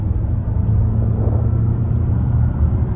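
A Volvo XC90 Facelift SUV pulls out of a corner on the road, a steady, close engine and road rumble that stays even and loud throughout with no voices.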